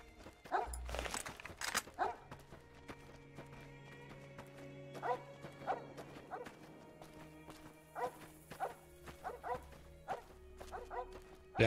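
A dog barks repeatedly in a modded Fallout video game while tracking a gecko, sharp barks spaced through the scene over steady background game sound, with people talking now and then.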